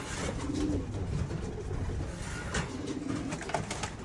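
Young pigeons cooing softly in a loft, a few low murmuring coos repeating at intervals over faint background noise, with no talk.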